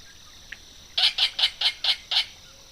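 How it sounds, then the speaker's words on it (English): A least bittern gives a short series of six evenly spaced clucking calls, fairly close and clear against a quiet background, after one faint soft note. "least bitterns do make cooing and clucking sounds, usually in the early morning or near dusk."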